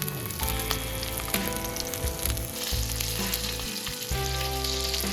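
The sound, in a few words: ribeye steak sizzling in a pan with added butter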